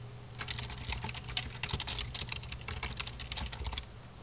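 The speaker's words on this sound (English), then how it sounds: "and you just type in your text." Rapid keystrokes clatter on a computer keyboard in a quiet room, a dense, uneven burst of clicks lasting a few seconds before stopping.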